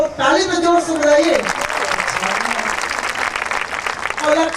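An audience claps loudly and continuously during cast introductions at a staged Ramayana performance, with a voice speaking over the start and end of the applause.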